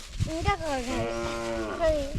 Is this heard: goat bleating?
yes